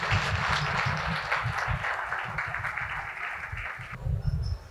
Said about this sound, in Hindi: एक बार ताली बजाओ जोरदार उनके लिए।